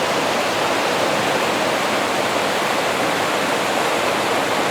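The Dungeness River rushes beside a hiking trail, a dense, steady broadband roar of flowing water that is close and constant throughout.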